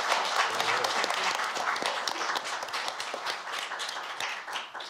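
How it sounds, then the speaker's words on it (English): An audience at a panel session claps steadily, a dense patter of many hands that holds for several seconds and fades slightly toward the end. "Please give Professor Brandon a round of applause"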